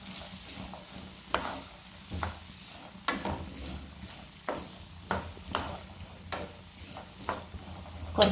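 Beans and potatoes are stirred in a frying pan over a gentle sizzle. Soft rhythmic scrapes and taps come about once a second under the steady frying hiss.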